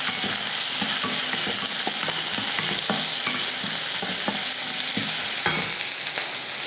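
Finely chopped onion and curry leaves sizzle steadily in hot oil in a pan, with repeated sharp scraping clicks of a spoon stirring, close and continuous, no voices.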